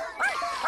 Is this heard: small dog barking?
yes